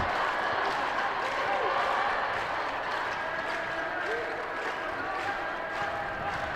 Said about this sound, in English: the rhythmic clapping from the Fergus Falls band